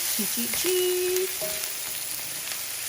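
Minced garlic goes into a hot pot of hearty beef soup and crackles with a steady, even hiss, joined by a few brief tonal scrapes early on, close and with no voices.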